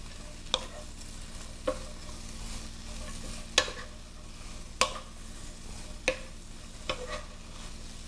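Onions and mushrooms stir-fry in a pan for Japanese-style spaghetti Napolitan, a low steady sizzle broken by sharp spatula scrapes and knocks every second or so, close and alone.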